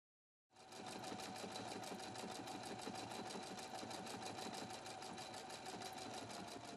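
A Husqvarna Viking Platinum Plus sewing machine stitches a programmed name onto fabric with tearaway stabilizer, starting abruptly and running steadily and close at a rapid, even rhythm.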